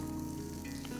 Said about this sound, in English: Once the oil is hot, I'm going to add onion,